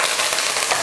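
Mustard seeds and spices crackle and sizzle in hot oil in a kadai, a brief, close, steady hiss with no speech.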